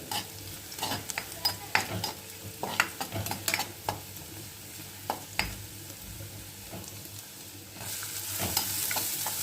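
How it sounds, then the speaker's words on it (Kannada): Ginger and onion fry in a pan for Chinese-style veg momos, a steady sizzle broken by repeated scraping strokes as a spoon stirs, louder hissing toward the end. "ಸ್ವಲ್ಪ ಫ್ರೈ ಆಗಬೇಕು, ಗೋಲ್ಡನ್ ಫ್ರೈ."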